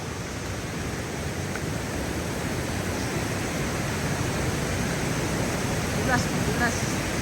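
The first waterfall at Robert Treman State Park in New York roars with a steady, loud, broadband rush of falling water, continuous throughout with a few faint high chirps near the end.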